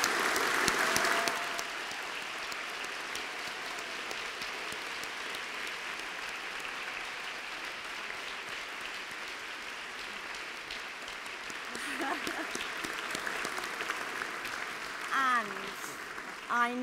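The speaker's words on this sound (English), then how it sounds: "So can I just ask you all to clap, everybody. Let's all clap each other." Audience at a university graduation ceremony applauding, a long sustained wash of clapping across a large hall that fades slightly before a speaker's voice and some cheering emerge near the end.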